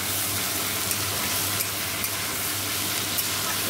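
Potato pieces sizzle steadily in hot oil in a pan while being fried for potato chowmein, a dense, continuous crackle with occasional light stirring clinks.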